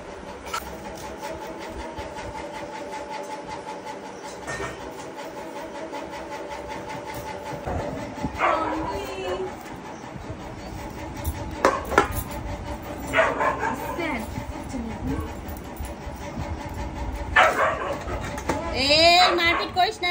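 Dogs bark and scuffle outdoors in a village, with sharp scattered bursts of barking that grow rougher toward the end, heard beneath people talking.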